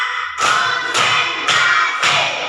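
Schoolchildren in a grade four classroom clap in unison during a concentration-clapping chant: four sharp, full group claps evenly spaced, close and loud.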